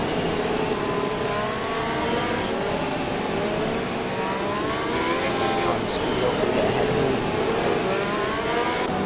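Race cars at Monza in a racing video game, engine notes rising and falling continuously up close, with a steady drone and a voice talking over it.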